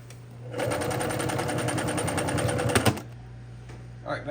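A sewing machine stitches a replacement tent zipper in a fast, steady rattling burst that runs for a couple of seconds and stops abruptly, leaving a quiet hum and a faint tap at the end.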